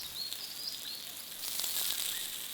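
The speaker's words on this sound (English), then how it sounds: "Starting to sizzle." Cheeseburger patties topped with provolone sizzle on a camping grill outdoors in Australia, a steady close crackling hiss that swells slightly louder partway through, with no talking.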